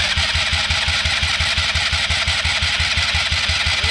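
A Polaris RZR 170 small engine cranks and catches, a loud, close, rapid chugging pulse with a steady mechanical rhythm throughout.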